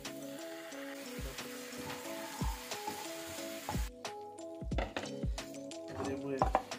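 Chicken fillet and mushrooms frying in a pan for a teriyaki dish, a soft steady sizzle broken by repeated scraping and stirring knocks, with background music throughout.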